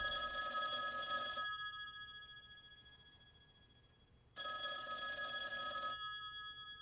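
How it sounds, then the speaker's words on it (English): An old-style telephone bell rings twice, each long metallic ring lasting over a second, separated by a few seconds of quiet. "that phone over there is gonna ring"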